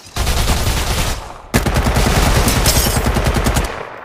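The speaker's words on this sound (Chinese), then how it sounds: "子弹打中了我的机甲" Rapid automatic gunfire in Apex Legends Mobile hitting a mech: two loud, dense bursts with a brief break between them, close and alone.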